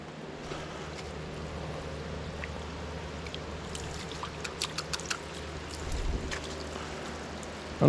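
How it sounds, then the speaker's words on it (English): Water trickles softly through a small woodland creek on a mountain hiking trail near Hemlock Falls, a faint steady wash with a few brief splashy ticks and no talking. "I mean, it's a water trickle."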